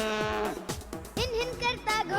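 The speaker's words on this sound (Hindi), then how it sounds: "गाय भैंस रंभाती है," Cattle moo in a couple of drawn-out, wavering calls set against the music of a children's rhyme.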